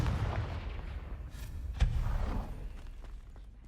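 Confringo fire spell blasting in the video game Hogwarts Legacy, a deep booming thump that rolls with low rumble over busy game ambience, with one sharp impact in the middle and the sound fading toward the end.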